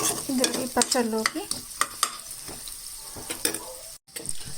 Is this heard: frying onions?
yes